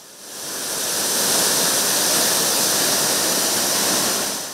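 Waterfall on the River Rushoma roaring as a dense, continuous hiss of high-pressure falling water that swells in quickly and holds steady and loud.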